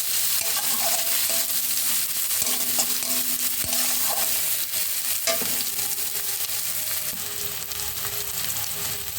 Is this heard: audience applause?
no